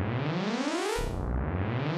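A Max for Live Repitch device driven by an LFO turns a sustained synth tone into a rapid cascade of many pitched notes sweeping up and down, dense and continuous, with a sudden low drop near the midpoint.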